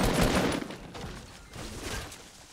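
Gunfire in the Fortnite video game, a dense spread of rapid shots and distant bursts crackling under the game's ambience, fairly faint and continuous.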